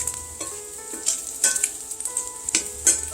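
Bacon sizzles and crackles in a hot pan, with a steady hiss broken by frequent sharp pops.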